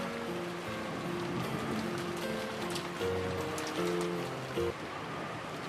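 Steady rain hisses evenly in the background beneath a soft, sustained musical melody, with no voices.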